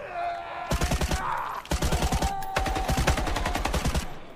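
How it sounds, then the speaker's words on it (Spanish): Bursts of rapid automatic gunfire rattle in quick volleys, pausing briefly between strings of shots, with a faint tonal hum underneath, in the video game The Day Before. "Ahí disparan la sensación de disparo me parece buena."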